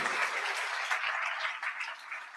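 A convocation audience applauds steadily, a dense wash of many hands clapping for a couple of seconds at a strong, even level with no talking over it.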